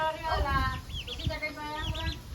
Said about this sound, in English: This chicken is really curious and trying to eat my food.